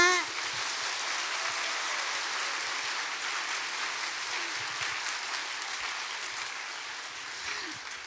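A concert audience at a Thanksgiving music festival applauds a pianist introduced on stage, a steady, dense wash of many hands clapping that holds at an even level for the whole stretch before easing slightly at the end.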